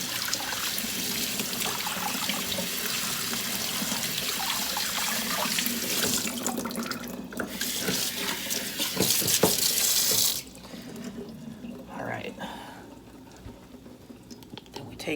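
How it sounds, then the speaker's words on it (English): Food rinsed for chili under a running kitchen tap into a sink, a steady loud gush of water that continues for about ten seconds, then drops to a quieter trickle and splashing near the end. "and then we rinse them"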